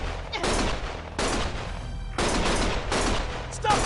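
Sustained bursts of gunfire in the video game Lost Judgment, loud and close, coming in several long rattling volleys with short gaps between them and no talking.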